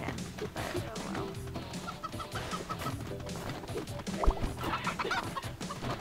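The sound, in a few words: chicken clucking in video game Moving Out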